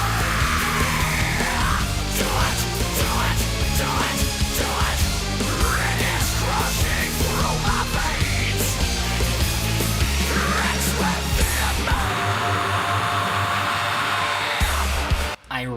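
Dense orchestral and electronic soundtrack music from a boss fight in the video game Final Fantasy XIII-2, against a giant orange jelly monster, plays loud and continuous throughout with no talk.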